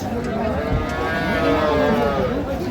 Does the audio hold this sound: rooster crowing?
no